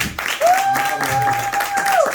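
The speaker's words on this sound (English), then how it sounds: "Let's please give Mr. Dave another round of applause" Audience applause at a comedy show, a dense crowd clapping mixed with a loud sustained cheer or whoop held for over a second, close and full.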